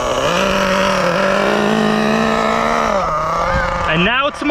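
A Losi 8IGHT nitro RC car's small engine holds a steady, close, loud idle, then blips up in a couple of quick rising revs near the end.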